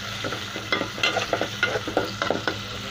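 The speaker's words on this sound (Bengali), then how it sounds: "এখন আমি পেঁয়াজের সাথে চিংড়ি মাছটা হালকা করে ভেজে নেব বন্ধুরা।" Small shrimp frying with onion in a pan for a shrimp and okra curry, a steady close sizzle broken by a regular series of scraping stirs, with no voice.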